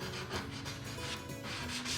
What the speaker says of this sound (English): use a sanding block